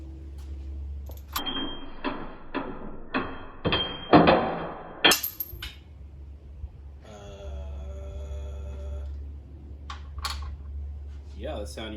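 A spark plug drops into the engine bay of an AWD Honda Del Sol with a few sharp, close metallic clinks and rattles, among quieter clicks and some talking.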